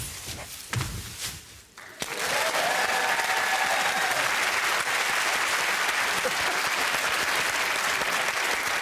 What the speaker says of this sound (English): John fans, let me see you clap your hands.